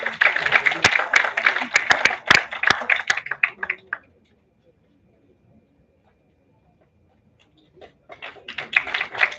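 Applause at a national seminar award presentation, a burst of many hands clapping that fades out into near silence, then picks up again loudly near the end.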